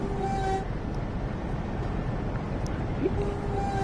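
Hoarse, croaky train horn in the Train Sim World 4 video game on a Northern Trans-Pennine route, two short strained toots over a loud, steady rumble of cab and engine noise.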